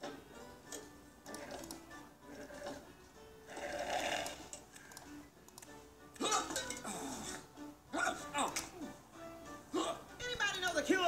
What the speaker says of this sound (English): Anybody know the cure for hiccups?